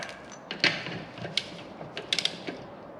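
A ratchet wrench clicks in short, quiet bursts while bolts are tightened on a Mercruiser TRS sterndrive on a 1985 Formula 302 SR1 boat, with scattered creaks and metallic ticks close by.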